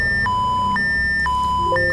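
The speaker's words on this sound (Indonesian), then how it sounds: "di sini kondisi di mana sudah mencapai pengisian yang diinginkan dengan berbunyi alarm" A two-tone electronic alarm from a VTScada fuel filling simulation alternates high and low pitches in steady half-second steps, loud and continuous, with no one talking.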